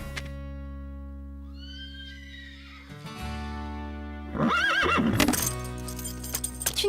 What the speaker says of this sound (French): C'est vrai que Diablo est un cheval fougueux